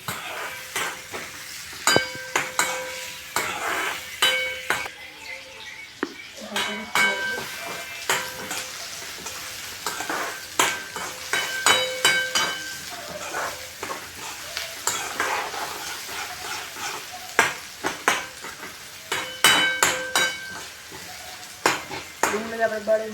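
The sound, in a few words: onions frying and crackling in oil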